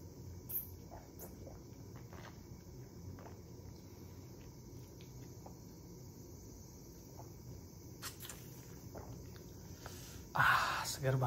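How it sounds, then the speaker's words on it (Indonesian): Crickets chirp continuously at a high pitch in the background on a summer day in Japan, steady and moderately faint, with a few soft rustles and a louder bump near the end. "Ini juga pasti kedengeran jangkrik."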